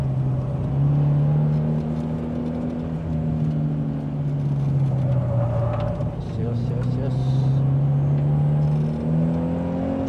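A Toyota 86 engine drones and revs at drift practice, rising and falling in long sweeps, steady and fairly close, while a voice calls instructions over it.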